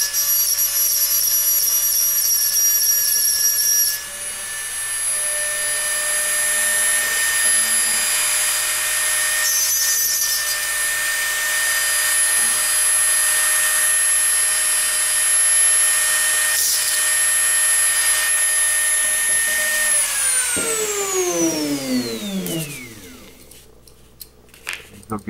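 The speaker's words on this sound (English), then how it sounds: "Grind off the little burr on the end of the axle." A power grinder whines steadily at high speed, close and loud, while grinding the burr off the axle end of a Tootsie Toy die-cast dragster, then winds down to a stop near the end.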